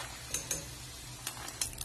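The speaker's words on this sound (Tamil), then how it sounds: "ஒரு 4 நிமிஷம் நல்லா மீடியம் ஃப்ளேம்ல வச்சு ஃப்ரை பண்ணி எடுக்கிறோம்." Yam (senai kizhangu) pieces frying in oil over a medium flame, a steady soft sizzle with a few light clinks of a utensil stirring against the pan.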